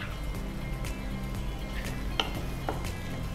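Small chicken pieces fry in a pan with coriander powder, a steady low sizzle with occasional faint clinks of a spoon against the pan.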